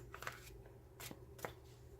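Tarot cards being shuffled by hand: a faint, soft series of riffling flicks and papery slaps, irregular and close, set against a quiet background hum.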